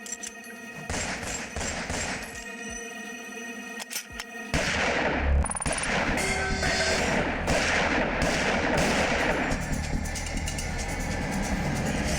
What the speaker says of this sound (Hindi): ये सबको गोली मार रहा है।